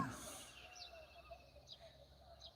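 Birds calling over a watermelon farm in the early morning, with crows and mynas named: a few thin, distant chirps repeat at intervals over quiet, low background noise.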